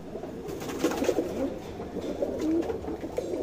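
Tournament pigeons coo softly in a loft, several low rolling coos overlapping at close range against a faint background murmur, with no talking.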